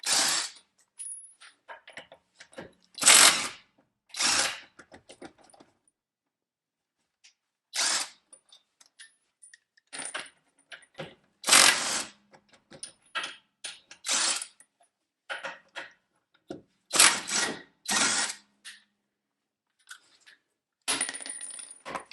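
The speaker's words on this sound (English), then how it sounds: "So the Revvstark took those lug nuts off with no problem at all." A Revvstark brushless cordless impact wrench with a 4.0Ah battery removes lug nuts in a series of sharp, rattling hammering bursts. The bursts come up close, separated by silent pauses, with faint metallic clinks between them and no speech.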